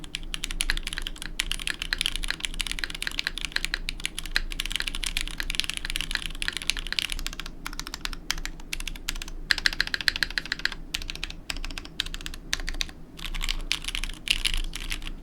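Continuous typing on a mechanical keyboard with MX Black linear switches and an aluminum plate in a top-mount case: a dense, steady clatter of close keystrokes with brief pauses, no talking.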